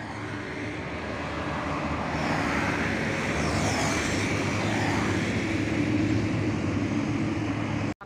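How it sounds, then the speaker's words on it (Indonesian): A Bagong bus passes on the toll road, a steady loud rush of engine and tyre roar that swells slightly and then holds, close by with no talk. "Bus Bagong tujuan Pare Blitar."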